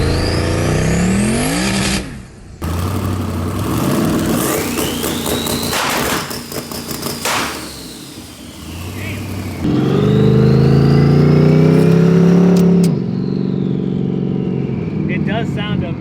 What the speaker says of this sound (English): Just those turbos spooling almost instantaneously.